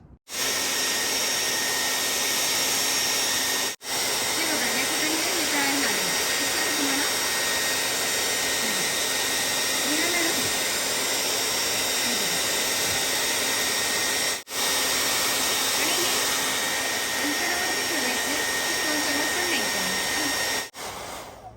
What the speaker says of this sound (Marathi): माझ्याकडे हे हेअर ड्रायर आहे ठीक आहे तर याचा आपण यूज करणार आहोत